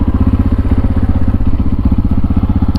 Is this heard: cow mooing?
no